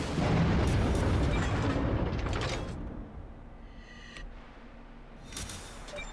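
Heavy battleship guns fire in the naval warfare game World of Warships, a deep booming salvo up front that rumbles and fades, followed by softer mechanical clanks and a later faint blast.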